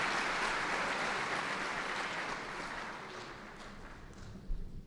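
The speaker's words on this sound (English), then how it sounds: "let's all give them a round of applause" A crowd applauding steadily at a high school commencement, a dense wash of clapping that gradually thins toward the end, with a brief louder clap near the finish.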